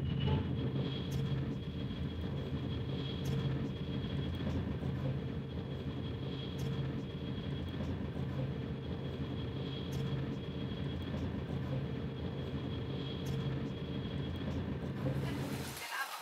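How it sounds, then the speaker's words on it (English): A high-speed train running at over 320 km/h between Casablanca and Tangiers gives a steady, broad rushing roar that holds level for about sixteen seconds, with a sharp burst right at the end. "This train that travels at more than 320 kilometers per hour linked the two key major cities"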